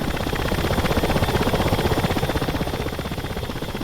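Ka-50 attack helicopter in the DCS combat flight simulator, a loud, steady rotor drone with a fast pulsing chop that runs unbroken throughout, with no voices.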